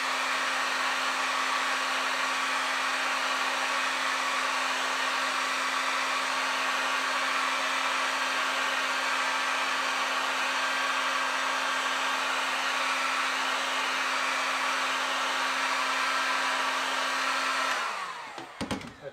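A heat gun reheating arrow fletching blows a loud, steady whirring rush with a constant hum beneath it. It runs unbroken for about eighteen seconds, then cuts off abruptly.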